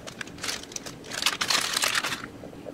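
A plastic bag of pre-shredded cheese being torn open, crinkling and crunching in a few bursts of close, fairly loud rustling that fade near the end.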